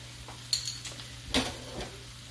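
Kale cooks in a pan with potatoes and onions, giving a low, faint sizzle broken by a few sharp clinks and scrapes of utensils against cookware.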